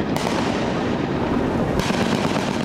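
AK rifles firing from a high-rise building during a Vietnamese military demonstration, a dense loud burst of gunfire cracks with a sharp onset and a second volley near the end.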